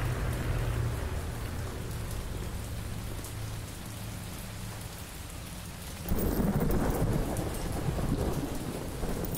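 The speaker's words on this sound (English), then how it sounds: "Here comes the rain." Steady rain with rolling thunder in the video game Cafe Owner Simulator, a continuous wash that swells to a heavier, louder downpour in the last few seconds, with no voices.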